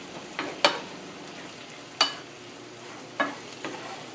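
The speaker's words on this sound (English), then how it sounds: "You see some of that liquid cooking out of there, evaporating" Red snapper cooks in a pan while liquid cooks off, giving a low steady sizzle broken by a few sharp clinks or stirring scrapes about once a second or so, with no one speaking.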